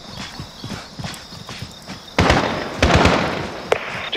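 Gunfire in the video game Call of Duty: Modern Warfare (2019) during a night mission, several sharp bursts and cracks in an intense loud stretch after softer rhythmic thuds, with one isolated report near the end.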